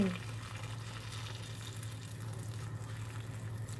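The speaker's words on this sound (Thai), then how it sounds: "เราก็เทน้ำร้อนลงไปเล" Hot water is poured into a pot over vegetables and fish, making a continuous rushing, bubbling wash of sound over a low steady hum. It is moderately close, with no talking.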